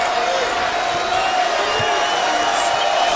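Arena crowd noise from a 2018 WAC Championship Final basketball game between Grand Canyon and New Mexico State, a steady loud roar of cheering throughout with a commentator's voice over it.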